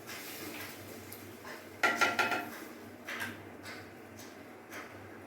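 Spoon stirring a pot of dahi potol curry with water, a few sharp metallic scrapes and clinks against the pot in a short cluster, then a couple of fainter knocks over a quiet kitchen hum.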